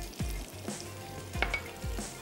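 Green chilies sizzle in hot oil for a tempering in a Pakistani dahi bhindi dish, a steady close crackle with a few sharper pops and stirring scrapes, no voices.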